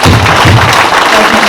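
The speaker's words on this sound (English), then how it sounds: "Everybody, round of applause." An audience applauds at an evening presentation, a brief burst of dense, loud clapping that carries through the whole moment.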